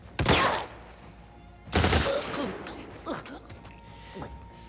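Rifle shots in The Last of Us Part II ring out as two loud, sharp cracks about a second and a half apart, followed by fainter scattered impacts and mechanical clatter.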